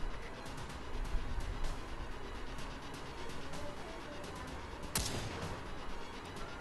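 Gunfire from the video game Coverfire rattles in a dense, steady wash of shots across the whole stretch, with one sharper crack standing out near the end.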